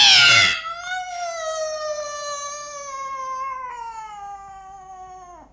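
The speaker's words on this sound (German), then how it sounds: "dann ein dröhnendes, triumphierendes Miauen." A loud, triumphant cat meow for a radio play, one long drawn-out wail that slowly sinks in pitch and fades at the end, preceded by a brief burst of noise.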